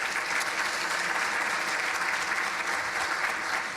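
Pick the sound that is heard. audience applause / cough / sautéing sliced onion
audience applause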